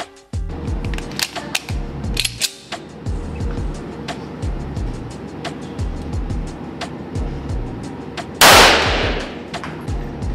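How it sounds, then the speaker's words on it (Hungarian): Gunfire from an Excalibur, a large single-shot firearm, at a shooting range: one sharp, loud blast near the end stands out over a steady background of rhythmic low thumps and clatter. "Amivel most lövök, az tulajdonképpen egy kurva nagy kard, az Excalibur."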